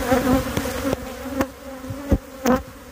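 Bees from an agitated, aggressive hive buzz close by in a steady drone, with individual insects whizzing past and a few sharp taps as they sting against a screen.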